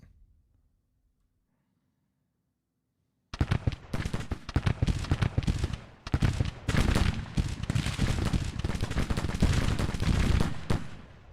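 Sharps rifle volleys in a Civil War strategy game crackle as dense, rapid, overlapping shots after a few seconds of near silence, sustained and loud to the end.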